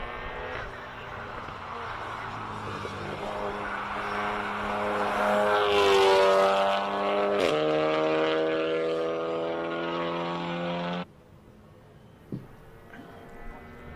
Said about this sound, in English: every person who's got a Golf just has funny noises coming out of the exhausts